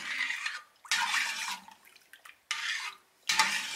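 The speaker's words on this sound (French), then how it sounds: "il faut bien mélanger le miel" Honey being stirred in a pot on the stove for homemade mead: three or four loud bursts of scraping and sloshing stirring, separated by short quiet gaps, close and without talk.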